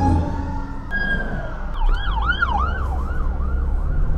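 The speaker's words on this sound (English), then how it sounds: "Uh-oh, fire trucks and ambulances coming." Fire trucks and ambulances passing with sirens, one siren wailing then switching to rapid rising-and-falling yelps over low traffic rumble, loud and near.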